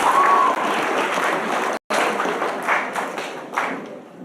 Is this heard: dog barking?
no